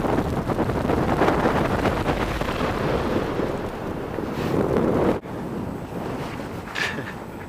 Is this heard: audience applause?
no